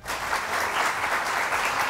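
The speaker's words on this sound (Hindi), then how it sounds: "तो बहुत सारी तालियां।" A television studio audience on a morning show breaks into a burst of dense, lively applause that holds at an even level for a couple of seconds, with no talking over it.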